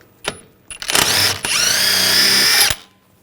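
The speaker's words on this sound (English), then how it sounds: "Now take the jam nut off," A power socket tool spins off the jam nut on a steering rack tie rod of a 2009-2010 BMW 535 xDriveinfo, giving two short bursts and then a loud, steady whine that lasts about two seconds before cutting off.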